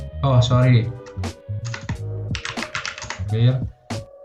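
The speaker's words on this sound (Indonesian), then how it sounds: "kita tulis perintah user add, enter" Keys clatter on a computer keyboard as a Linux command is typed on CentOS 7, with a steady run of close, crisp clicks under a man's explanatory speech.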